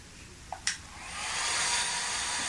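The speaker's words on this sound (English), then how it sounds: "So it just makes a little fan noise." A Philips Lumea Prestige IPL hair-removal device switches on after a couple of faint clicks, then its small fan settles into a steady, soft, close airy whir.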